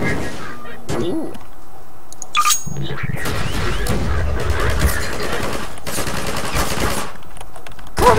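Bursts of automatic gunfire and scattered shots in Garry's Mod, loud and close, mixed with clinks and other game sounds, rising into dense rapid fire in the middle and again near the end.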